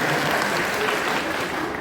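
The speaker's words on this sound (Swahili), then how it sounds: "Na bila kumsahau our coordinator Sovinga, simama tukutambue tena, pigeni makofi." Steady applause from a crowd at a political gathering, dense and continuous clapping throughout with no pauses.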